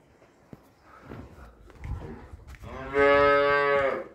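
A loud, drawn-out moo from a Simmental calf rises after a few seconds of soft shuffling and background noise, strong and close.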